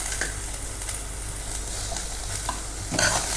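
Capsicum, garlic and ginger stirred and fried in a pan, a steady close sizzle with scraping stir strokes throughout and no talk.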